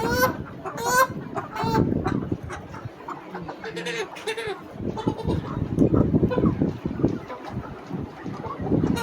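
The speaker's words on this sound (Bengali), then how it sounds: "আর কিছু মুরগি আছে" Chickens on a poultry farm cluck and squawk in a busy, continuous chorus, with several sharper calls rising over a steady background of birds.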